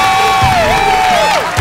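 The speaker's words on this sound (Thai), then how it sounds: "ตอนนี้ขอเสียงกองเชียร์เควสหน่อยครับ" Supporters cheering for contestant Quest on MasterChef Thailand: a short, loud swell of crowd shouting with high whooping voices sliding up and down, sustained throughout without pause.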